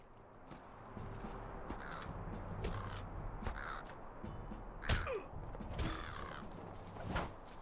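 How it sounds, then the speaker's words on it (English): Crows caw repeatedly in the online game Lord of the Rings Online near Ost Guruth, harsh calls scattered over several seconds above a low ambient game background. "Oh, got a couple of crows here."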